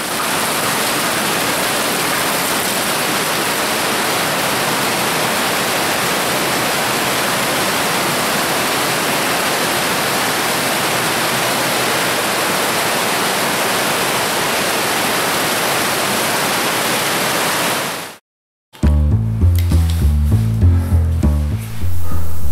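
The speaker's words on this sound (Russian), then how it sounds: "Мощные погружные насосы откачивают поступающую воду в находящуюся по соседству подземную реку." Powerful submersible pumps drive water into an underground river in tunnels beneath Moscow, a loud, constant roaring rush that fills the space, then cuts off abruptly and gives way to music.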